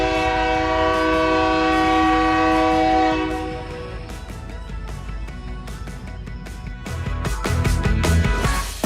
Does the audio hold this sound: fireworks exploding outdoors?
no